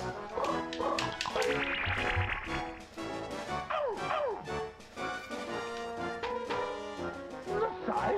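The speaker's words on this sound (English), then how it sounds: "Bark for us!" Video game dog barking in Chibi-Robo, short yapping barks over a busy, loud game music bed with sweeping tones and crashes.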